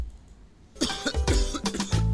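Quiet background gives way to a series of loud, harsh coughs close by, several bursts in quick succession.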